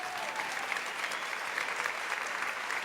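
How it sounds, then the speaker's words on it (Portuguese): Church congregation applauding during a Portuguese-language sermon, a steady dense wash of clapping that holds at an even level throughout without breaks. "Vai aplaudir sem eu pedir ou não?"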